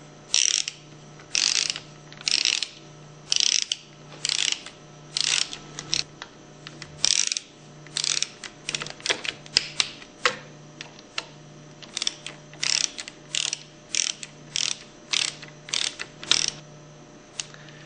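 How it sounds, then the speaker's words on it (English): An Allen wrench on a ratchet torques the side cover bolts of a Hypro 2400 series plunger pump. Rapid ratcheting clicks come in repeated short bursts, close and steady, over a faint low hum. "use your 1/4-inch Allen wrench and torque them between 100 and 110 inch-pounds"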